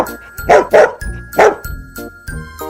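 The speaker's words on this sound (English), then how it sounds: "So what sound does a dog make?" A dog gives several sharp barks in quick succession, loud and close, with a light jingling tinkle between them and no talk.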